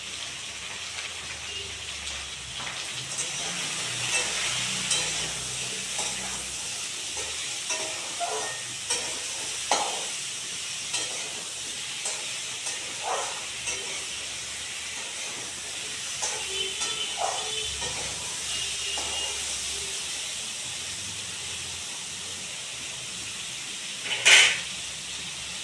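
Drumstick curry vegetables and potatoes, seasoned with salt and turmeric, fry in a pan with a steady soft sizzle and hiss, broken by scattered stirring clicks and one sharper scrape near the end, with no talking.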